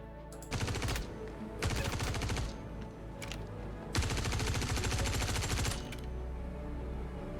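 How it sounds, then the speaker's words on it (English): A CQ7 ballistic rifle in the Star Citizen video game fires three loud, rapid automatic bursts, with short gaps between them and a longer final burst of sustained fire. "Yeah, classic ballistic gun."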